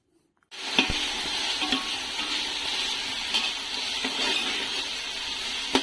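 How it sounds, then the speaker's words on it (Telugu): Onions and ginger paste sizzling steadily in a pan while being stirred, with a continuous frying hiss and occasional scraping clicks from the spoon, close and fairly loud, no voices. "ఉల్లిగడ్డలు, అల్లం పేస్ట్ పచ్చి వాసన పోయేంత వరకు కలుపుతూనే ఉండాలి."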